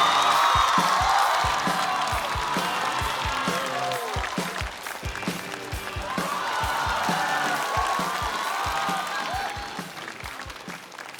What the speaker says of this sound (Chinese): 掌声有请金博